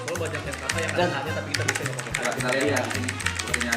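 Fast, busy clatter of keys on a computer keyboard during a typing contest, continuous and close, with music and voices running underneath.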